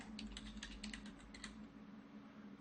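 Quiet, rapid computer keyboard typing: a quick run of light key clicks over the first second and a half, then a few softer taps, with no one speaking.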